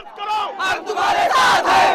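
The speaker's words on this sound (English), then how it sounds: "This crowd outside is going wild." A large crowd outdoors cheers and chants loudly in rhythmic bursts of shouting voices, close and energetic, at a political gathering.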